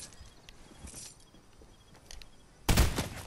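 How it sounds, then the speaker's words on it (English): A loud, sudden burst of rapid gunfire from a shooter video game breaks out near the end, after a quiet stretch of faint background noise. "I shot at them."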